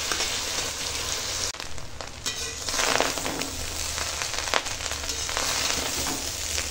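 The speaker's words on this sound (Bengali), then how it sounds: "প্রথমে একটু সাদা তেল দিয়েছি, আর সাদা তেলের মধ্যে ঘি দিয়ে আর এগুলো ভেজে নিচ্ছি।" Cashews and sugar sizzle and crackle steadily in a pan of white oil and ghee, a dense, close frying hiss with brief shifts as the pieces are stirred.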